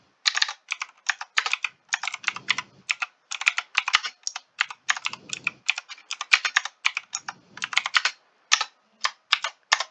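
Rapid typing on a computer keyboard, with bursts of close, crisp key clicks in an uneven rhythm and brief pauses between runs.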